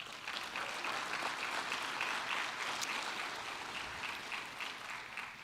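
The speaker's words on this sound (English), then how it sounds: "Let's give each of the ladies a big round of applause" Applause for the contestants at the Junior Miss and Miss Cherokee pageant rises from the crowd as a faint, even wash of clapping hands heard from afar, holding steady before easing slightly near the close.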